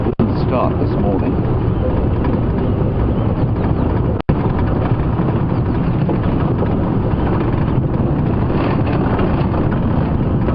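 A safari vehicle's engine idles steadily close by in the bush, a continuous low rumble that fills the clip with one brief dropout midway.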